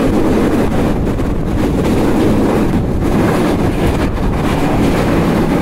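On board the Kopotakkho Express passenger train between Khulna and Rajshahi, a continuous loud rumble and roar rolls on as the carriages run over the rails, with wind buffeting the microphone.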